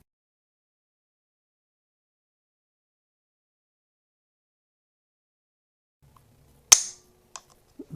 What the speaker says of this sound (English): The rifle will go off,